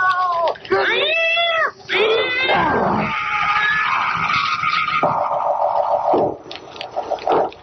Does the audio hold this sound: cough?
no